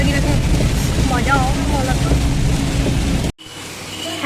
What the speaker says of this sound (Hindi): हैवी रेनफॉल संगवारी हो, हैवी रेनफॉल।